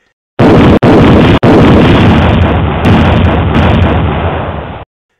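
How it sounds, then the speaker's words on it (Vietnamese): Loud bomb explosions in a sound effect, a dense, continuous roar of blasts with two sharp separate bursts at the start, rumbling on for several seconds before cutting off abruptly; no talking. "Những trái bom đua nhau rớt xuống mục tiêu"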